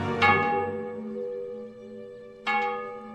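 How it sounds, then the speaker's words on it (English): A church-style bell in a TV show strikes twice, each clang ringing out with a long shimmering decay, the second about two seconds after the first, heard clearly with no talk. "The bell."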